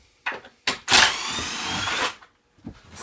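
A power screwdriver backs a screw out of a Wooden Tool Man Drum Sander 14: one sustained whirring burst of about a second, close and loud, with a few short clicks and knocks around it and no talking.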